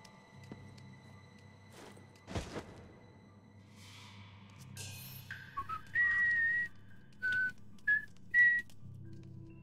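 Four short rising whistles ring out in quick succession in Assassin's Creed Chronicles China, following a swish and a low ambient game score with no speech.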